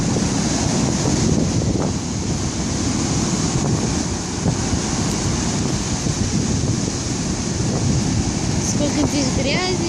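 Stormy Black Sea surf at a beach in Lazarevskoye, constant rushing waves and heavy wind buffeting the microphone, loud and continuous for the whole stretch.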